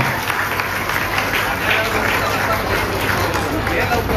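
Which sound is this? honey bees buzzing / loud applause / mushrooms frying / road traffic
loud applause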